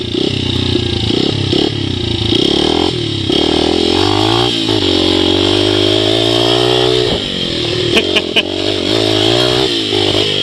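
A 2005 Honda CRF 80F dirt bike with an 80cc engine and clutch rides on a mountain, its engine buzzing loudly and close, rising and falling in pitch with throttle and gear changes.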